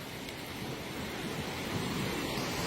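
A river at Chooralmala in Wayanad rushes past in a continuous, dense wash of flowing water, steady and fairly loud with no breaks and no voices.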